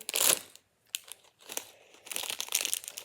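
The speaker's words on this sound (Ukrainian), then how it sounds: "І зараз ми будемо розпаковувати цей пакетик" Close, crisp crinkling and rustling of thin plastic in short bursts with brief pauses, like a small packet being handled and torn open.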